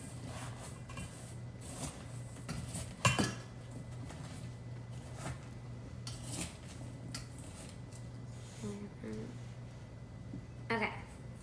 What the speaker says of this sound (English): We're gonna just mix that all together.